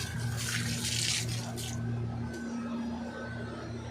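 Water runs steadily from a hose, washing a floor and potted plants outdoors in hot weather, a continuous moderate gush with someone talking over it.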